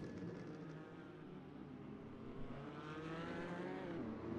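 A GT4 race car engine in a racing video game hums steadily at low volume, rising slightly in pitch and intensity toward the end, with no talk over it.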